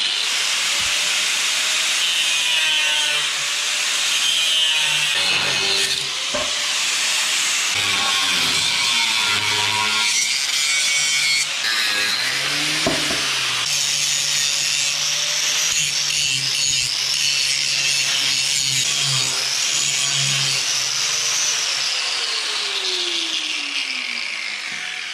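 Wood is sawn to trim the edges of a dump trailer bed. The rasping, hissing strokes run for the whole stretch, loud and close, with no voices.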